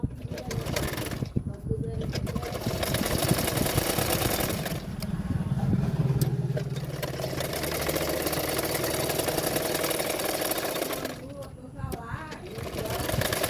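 An electric sewing machine stitches a fabric belt for a katori blouse, running in a steady close whirring drone with a few brief stops between passes.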